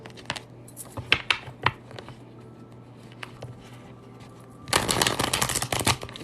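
A deck of tarot cards is shuffled, first with scattered light taps and flicks, then a dense riffling burst near the end, close and fairly quiet.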